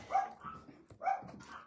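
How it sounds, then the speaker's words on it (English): Dogs bark indoors in two short bursts about a second apart, each faint and somewhat muffled, with nothing else heard. "sorry about my dogs."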